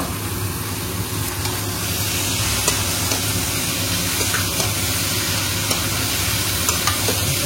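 Steady sizzling of mutton pieces frying in a hot pan, with occasional scraping and clinks as it is stirred; continuous and fairly loud, no talking.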